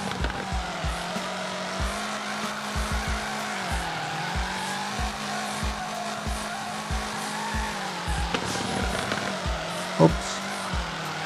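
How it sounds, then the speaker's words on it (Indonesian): In FR Legends on the Usui Pass map mod, a car engine drones with steady rising and falling pitch while tires squeal through drifts, with regular thumping clicks underneath and no talking. "Masih drifting manja menggunakan mobil Mako Sato ya."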